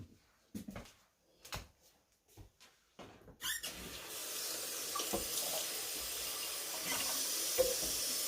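A few soft clinks and knocks in a home kitchen give way to a kitchen tap gushing steadily into a soup pot, adding water for vegetable soup. The hiss of running water is close and continuous.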